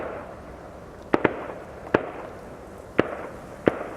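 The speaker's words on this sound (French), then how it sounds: "Ouais, le champ de tir il est à 5-6 km. On entend bien les tirs quand même." Gunshots from a shooting range roughly 5 to 6 km away in the Semnoz hills, heard as four sharp, distant reports at uneven intervals over a steady outdoor background hiss.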